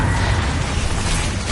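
A loud, sustained fiery blast from a Confringo spell in the Hogwarts Legacy game fills the moment with dense, rumbling, crackling noise that holds steady for over a second.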